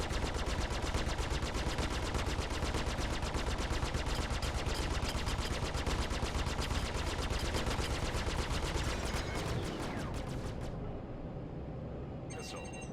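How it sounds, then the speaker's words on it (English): Sustained rapid automatic gunfire in the space game Star Citizen hammers on loud and continuous for about ten seconds, then cuts off abruptly into a quieter hum with a brief sweep near the end. "He's shooting first."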